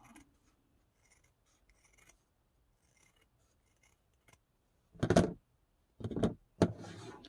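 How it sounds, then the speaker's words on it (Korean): Scissors snip through quilt batting for a small framed pouch, three short crisp cutting bursts near the end after several seconds of near silence, close and clear. "너무 솜이 많이 나왔을 때는 좀 잘라서"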